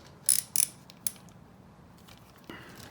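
Hand tools working bolts on the swing arm of a Yamaha YFZ450 quad: a few sharp metallic clicks close together early, then quieter ticks and a short scrape near the end.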